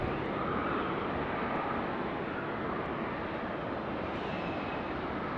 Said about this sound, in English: That's a long takeoff roll, that one.